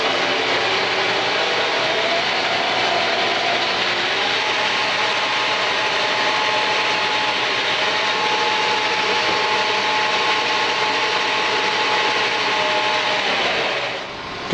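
Steady, continuous whir and broadband hiss of a wood lathe spinning a camphor wood pen blank at increased speed, with a faint rubbing cut, running loud and unbroken until it winds down at the end.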